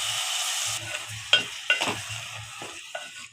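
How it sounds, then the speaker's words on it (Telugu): Stirring tomato paste into a brinjal and potato curry in a pan, a few scraping strokes of a spoon over a soft steady sizzle, close and fairly quiet. "టమాటా పేస్ట్ వేసి కూడా ఒకసారి బాగా కలపాలి."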